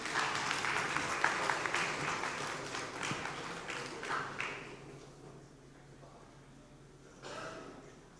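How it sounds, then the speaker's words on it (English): Conference audience at a Kerala chapter event clapping for a memento presentation, a dense wash of applause that fades out over several seconds, followed by quieter room noise and a brief murmur. "please witness this with a big round of applause."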